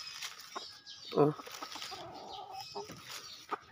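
A young stag rooster of Melsim Black line gives one short, loud cluck amid quiet yard background noise, with a few fainter sounds around it.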